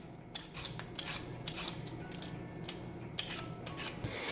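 Sweet potatoes being peeled, a series of short rhythmic scraping strokes close by, repeating roughly every half second with quiet pauses between.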